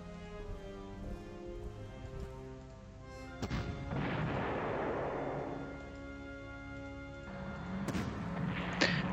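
A tank gun fires in a World War II strategy video game set around Belgrade, with a single booming shot echoing and rumbling away, and a faint sharper report near the end against a low, steady background.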